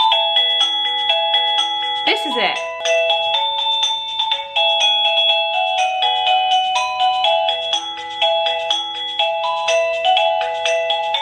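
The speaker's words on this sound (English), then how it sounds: "So yeah, that's our doorbell." A multi-tone electronic doorbell plays a long repeating melody of bright chime notes, with a brief voice speaking near the start.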